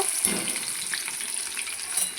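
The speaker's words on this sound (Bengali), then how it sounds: "এবার আমি এই তেলে পেঁয়াজের ব্রেস্তা বানিয়ে নেব।" Continuous close sizzle and crackle of onions frying in oil until deep brown for biryani, with a brief stirring scrape near the start and no talking.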